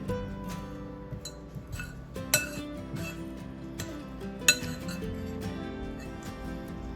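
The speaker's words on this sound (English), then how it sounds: "Miss Katie's blending it all together there now in this large mixing bowl" Cheese ball ingredients, including chopped onion and celery, being mixed in a large mixing bowl: irregular utensil clinks and scrapes with a few sharper knocks against the bowl, over a soft steady tonal background.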